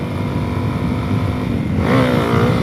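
Suzuki DRZ400S motorcycle engine, after repairs, droning loudly and close through a test ride, then rising into a harder rev near the end as the front lifts into a small wheelie.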